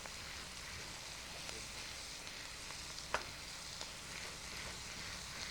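Shredded cabbage cooks down in a pan with a soft, steady sizzle and occasional stirring scrapes, fairly quiet and even throughout.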